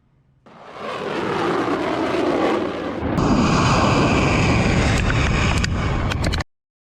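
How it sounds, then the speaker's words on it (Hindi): Missile launches by IRGC forces: a loud, sustained roaring rush that swells suddenly and stays dense and broadband for several seconds, then cuts off abruptly, with no talk. "आईआरजीसी के जवानों ने कुछ ही देर के अंदर कई खतरनाक मिसाइलें लॉन्च कर दी"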